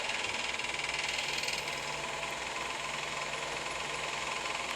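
Rough, knocking car engine running low on oil in Police Simulator, a steady close-up rumble with a fast rattling pulse that holds throughout and no talk over it.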